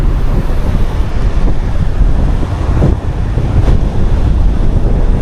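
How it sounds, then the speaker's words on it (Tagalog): Constant roar of heavy ocean surf and crashing waves along the shore while fishing, mixed with strong wind buffeting the microphone, loud and unbroken. "malalaki ang alon"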